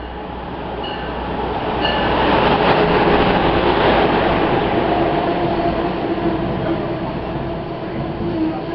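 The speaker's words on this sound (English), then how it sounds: "Eastbound Amtrak Regional Train number 138 to New York" An Amtrak regional train hauled by a Bombardier HHP-8 locomotive rolls past with a loud, steady roar that swells and holds, with faint wheel squeal and a faint voice underneath.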